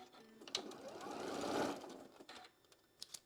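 A sewing machine runs steadily through a quilt block for about two seconds, stitching just left of a marked line with a scrap leader, fading out to faint clicks and handling noises afterward.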